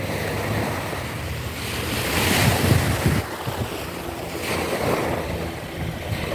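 Ocean waves rolling onto the beach at Pantai Putri in Melaka, Malaysia, a steady surf wash with strong wind buffeting the microphone, swelling louder midway, with no one speaking.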